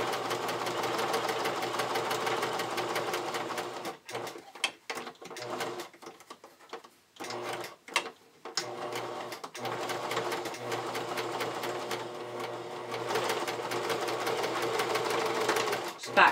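A home sewing machine runs in quick, rapid bursts with short pauses, stitching a quarter-inch seam around the edges of small fabric pug ears; the motor whir is close and moderately quiet.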